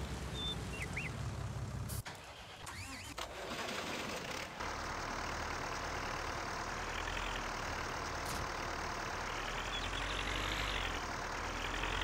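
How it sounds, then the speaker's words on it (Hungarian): A tractor engine in Farming Simulator 19 idles steadily with a low, even drone and a rough rumbling texture, holding constant throughout with a brief dip early on. "Ennek a traktornak a hangja, vagy mi ez az?"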